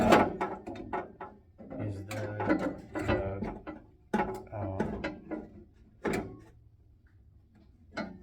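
Parts of a door handle mechanism are fitted into a Jeep Grand Wagoneer door, making a string of sharp metallic clunks, clicks and knocks at irregular intervals, close and fairly loud, with quieter gaps between bursts.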